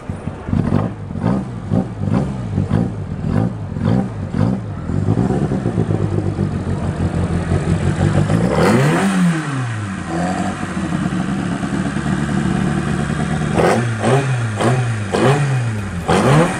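A customized car at the Old & Low car show in Curitiba revs hard, with sharp repeated throttle blips, sustained high revs and falling-off engine notes, loud and close with rough crackling exhaust.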